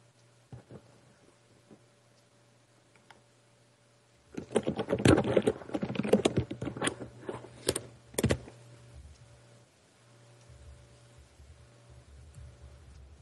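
Rapid keyboard typing on a computer, a dense burst of clicking keystrokes for a few seconds in the middle, fairly close, with quiet stretches and a faint steady hum before and after.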